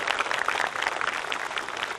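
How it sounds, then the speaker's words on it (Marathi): Audience applause at a Bhim Jayanti 2024 gathering honouring a JNU French professor, a dense steady clatter of many hands throughout, moderately loud with no talking. "एकदा जोरदार टाळ्या होऊ द्या"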